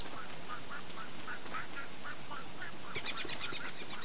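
Short squawking bird calls from a creature in the Don't Starve video game, a series of brief quacky cries repeating at a steady pace, a little faint and standing alone.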